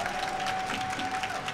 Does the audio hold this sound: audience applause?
yes